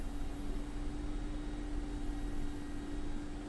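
Steady engine and rotor drone of a Mi-24P Hind helicopter during a rolling takeoff in the flight simulator DCS, a constant loud hum with a strong tonal whine and no voices.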